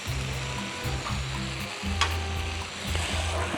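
Curd poured into rajma curry in a hot pan makes a loud, dense sizzle that continues steadily, with a low rumbling hum underneath and a couple of brief stirring clatters.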